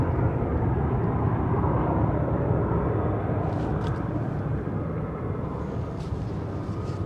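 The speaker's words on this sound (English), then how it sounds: "Sounds like an F-15 climbing out" An F-15 fighter jet climbing out, a steady, broad roar that rumbles continuously and fills the air with no break, distant but powerful.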